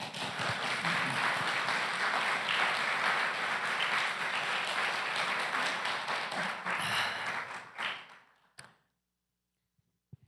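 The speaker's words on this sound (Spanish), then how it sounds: "Un aplauso para el Señor." A church congregation claps together for the Lord during a sermon, dense steady applause lasting about eight seconds before tapering off into near silence with a few faint knocks.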